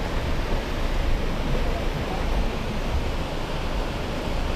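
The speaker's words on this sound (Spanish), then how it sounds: "Mira, un río." A river swollen after Hurricane Lidia in Jalisco rushes past in a steady, broadband roar of flowing water, constant and fairly close, with no voices.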